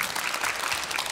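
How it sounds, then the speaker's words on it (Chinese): An audience applauds warmly at a lecture: steady, dense clapping fills the short stretch, with no voices over it. "我们给总编热烈掌声"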